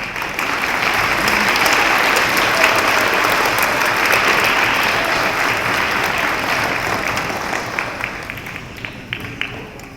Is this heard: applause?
yes